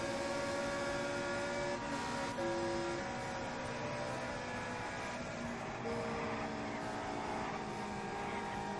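Race car engine from a 1965 Indianapolis 500 racing video game, a steady loud drone with sustained harmonic tones shifting pitch slightly as the car drives through a turn, continuous throughout.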